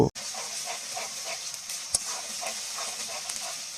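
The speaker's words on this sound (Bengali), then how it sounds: "এখন এই মশলাগুলোকে একটু সময় কষিয়ে নেব" Spices and onion paste frying in a pan over a clay stove, a steady close sizzle and hiss with small pops and one sharp tap, no voices.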